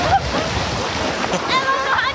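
Water splashing and sloshing in a lake as people jump in, a broad wash of spray and churn that runs throughout, with voices talking and calling over it.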